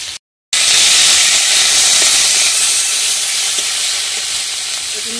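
Spice pastes of cumin, coriander, ginger and dried chilli fry with chopped tomatoes in a pan, giving a loud, steady broadband sizzle after a brief silent gap, with faint stirring clicks.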